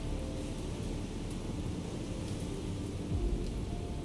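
Steady rainfall with low rumbling thunder in the naval combat game War on the Sea, a dense continuous hiss that persists throughout, with a brief swell of rumble near the end and no talking.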